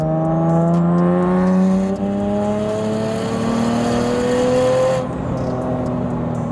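A single-turbo BMW 335 accelerates hard from 3,000 RPM, heard loud and close from inside as the engine note climbs steadily, with a brief shift near the end before it pulls on again.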